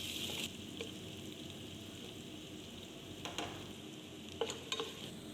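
Ginger, garlic and green chili frying with shallots in a pan for a Kerala tuna curry, a steady soft sizzle with a few brief scraping stirs of the spoon near the end, no voices.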